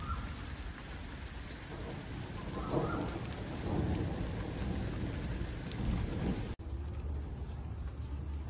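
Steady rain falls outdoors where a rabbit is kept, a dense even hiss with scattered bird chirps over the top and a brief break near the end.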